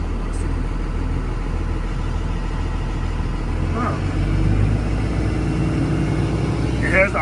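A Thomas Built C2 school bus engine idles with a steady, low mechanical rumble that holds evenly throughout, with a person speaking briefly over it.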